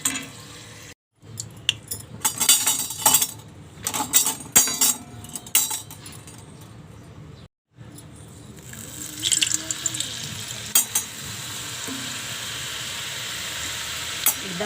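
Garlic masala sev dough frying in hot oil, crackling and sizzling with intermittent bursts, alongside clinks of utensils and some background voices.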